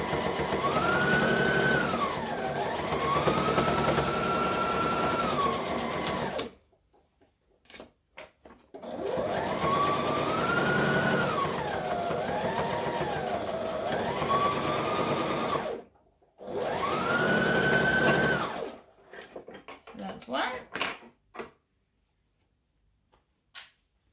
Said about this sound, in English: So I'm going to stitch and backstitch.